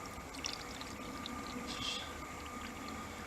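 Water pouring steadily in a soft, continuous trickle with light splashing, fairly quiet and close, with no talking.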